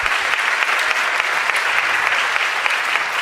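An audience at a school spring instrumental concert gives sustained, loud applause, a thick wash of clapping hands that holds steady throughout.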